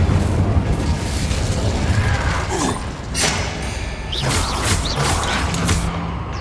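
Fire and blast spells, Incendio and Confringo, go off in Hogwarts Legacy combat, with a steady roar of booms, thuds and bursting pops continuing throughout at close, loud range.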